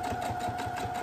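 A sewing machine stitches fabric for a cake bag, sewing about half a centimetre from the edge. Its needle runs in a fast, even, rhythmic chatter with a steady motor hum, close and continuous, with no talking.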